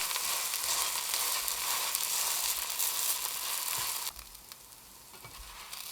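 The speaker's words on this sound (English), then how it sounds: "add about a teaspoon of oil on the other side and flip the pancake" A dairy-free, eggless vegetable pancake frying in oil in a pan, a continuous bright sizzle that drops to a quieter crackle partway through, with a couple of soft knocks near the end.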